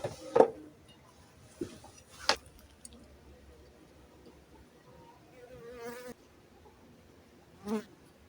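Honey bees buzz around small nucleus hives in an apiary, with a few brief nearby passes standing out against quiet background; a person speaks faintly at times.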